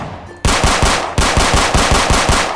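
Rapid automatic gunfire in a Roblox police-and-robbers game, aimed at a car's tires: a loud, close burst of about ten evenly spaced shots after a brief quiet start, with no talk over it.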